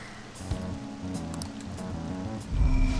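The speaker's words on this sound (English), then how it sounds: "This rain ain't too bad." Steady rain from the video game Persona 5 patters throughout, with a soft layer of background music underneath and a heavier low rumble building near the end.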